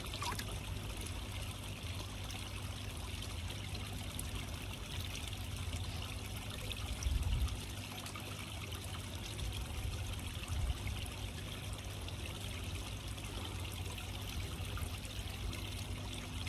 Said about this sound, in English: Drop of water.